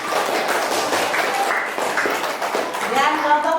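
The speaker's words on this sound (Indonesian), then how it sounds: "terima kasih untuk kelompok 3, tepuk tangan." A classroom full of students applauds after a group presentation in a teaching practice lesson, a dense, steady patter of clapping that runs throughout, with voices mixed in.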